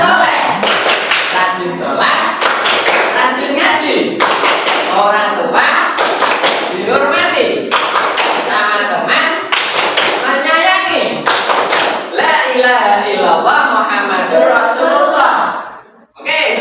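A classroom of children chants the Indonesian clapping routine tepuk anak soleh, with loud, regular bursts of hand claps alternating with chanted voices throughout.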